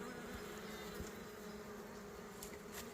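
Black honey bees buzz in a steady, close drone during a hive inspection, a continuous hum with no voices.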